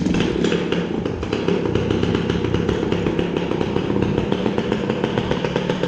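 A 1996 Yamaha PW80 dirt bike engine runs loud and close with a rapid, buzzy, rattling drone that holds steady throughout.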